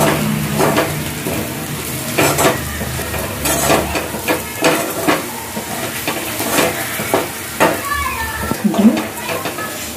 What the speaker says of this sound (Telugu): వేగిపోయి 2 స్పూన్లు కారం వేసుకున్నారు.